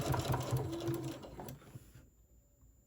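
A sewing machine back stitching runs in a steady, close mechanical whir with rhythmic needle clatter for about two seconds, then stops, leaving near silence and a faint click at the end.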